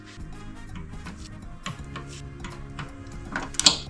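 Bolts being tightened with a torque wrench on a Volvo XC90 3.2, heard as soft repeated ratcheting ticks and small metallic clicks nearby, ending in one sharper click.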